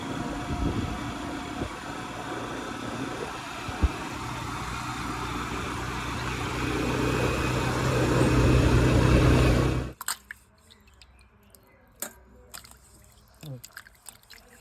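A boat engine runs loudly and steadily in Devgad waters for about ten seconds, swelling slightly, then cuts off abruptly, leaving quiet scattered knocks, splashes and handling sounds.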